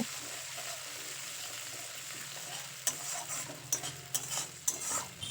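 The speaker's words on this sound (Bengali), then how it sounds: "এবার মশলাটা খুব ভালো করে ভেজে নেব" Ground ginger, cumin and green chilli paste fries in a pan with a soft, even sizzle, joined in the second half by sharp metal spoon scrapes and clinks as it is stirred; no talking.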